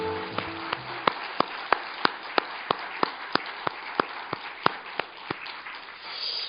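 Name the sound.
church congregation applause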